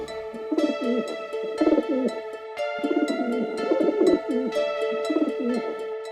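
Pigeons coo in repeated soft, throaty phrases in a steady rhythm, close by, over a sustained tonal background, with no voices.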